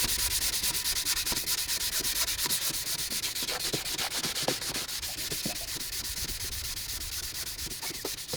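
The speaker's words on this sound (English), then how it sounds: "So we're gonna keep sanding this until all of that black is gone." Steady, close abrasive rubbing of sandpaper on the painted body of a Mercedes R129 SL500, continuous strokes with a harsh hiss and no voices.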